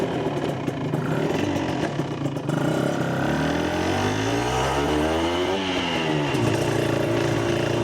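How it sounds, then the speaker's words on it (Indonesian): A Honda NSR RR two-stroke motorcycle engine runs close by, idling with a raspy buzz, then rises and falls in pitch as the throttle is blipped. "Wah, suara 2 tak ini"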